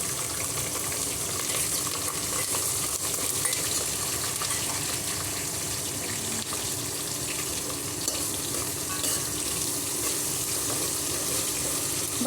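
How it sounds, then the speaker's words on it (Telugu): Sliced onions frying in hot oil in a pan for veg pulao, with green chillies and cashews, cooked until golden brown. A steady, hissing sizzle fills the whole stretch and holds even and close without speech. "గోల్డెన్ బ్రౌన్ వచ్చే వరకు ఫ్రై చేసుకోవాలండి ఈ ఆనియన్స్"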